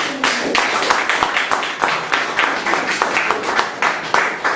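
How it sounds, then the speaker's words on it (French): A church congregation at a bilingual English-French service bursts into dense, sustained applause, many hands clapping continuously and loudly throughout, with a faint voice or cheer mixed into the crowd. "Let's put our hands together. Applaudissons pour le Seigneur."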